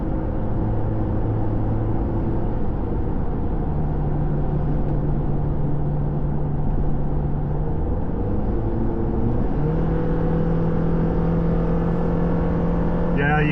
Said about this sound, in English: Yeah, you hear my motor kicking in right there.